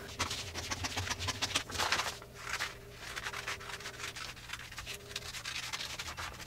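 Scissors cut through a paper sleeve sewing pattern for a blouse, giving a steady, close rustling and rubbing scrape that runs the whole time with no talk over it.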